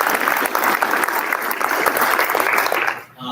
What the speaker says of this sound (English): give a really quick round of applause to the organizers, the board, the volunteers